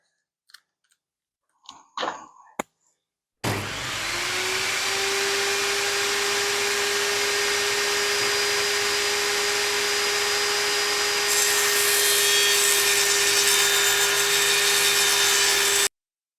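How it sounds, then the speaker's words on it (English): A drill drives deck screws into wooden table legs: a few brief knocks, then one long, steady, close motor whir that holds an even pitch for about twelve seconds, with no talking. "So let's go ahead and put a couple of screws in."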